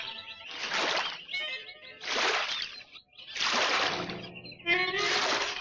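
Water splashes loudly in four broad bursts as someone jumps and thrashes while bathing, each surge roaring up and falling away between short gaps.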